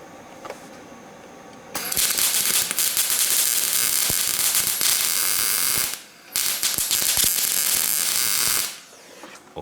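MIG welding on a car body to repair rust holes, bursts of loud crackling buzz from the torch running for a few seconds each, with a brief pause between two welds and quiet before and after.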